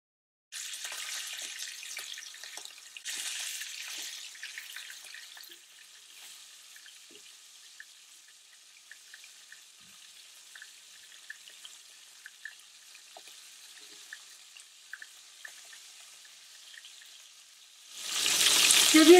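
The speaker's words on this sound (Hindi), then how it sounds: "तो सबसे पहले ड्रमस्टिक्स को फ्राई करना है।" Chicken drumsticks frying in a pan, a hissing sizzle that settles into a quieter crackle with scattered pops, then swells loudly again near the end; no speech.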